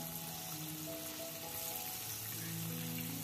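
Chicken pakoda pieces fry in hot oil over a medium flame, giving a steady, even sizzle and bubbling hiss that stays close and constant throughout, with no voices.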